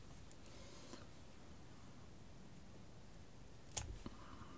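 Scissors snip a small bunch of fur while tying a Fran Betters Usual variant fly: a single quiet, crisp cut near the end over a faint steady room hiss.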